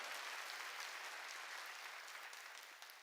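A church congregation applauds during a Sunday sermon, a dense, steady wash of many hands clapping together that holds evenly and eases off slightly near the end.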